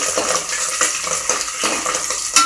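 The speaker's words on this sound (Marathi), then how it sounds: "आपण चरबी तेलामध्ये तळसून घ्यायची आहे" Mutton fat frying in hot oil, a close, loud and steady sizzle with crackles and light stirring scrapes, no voices.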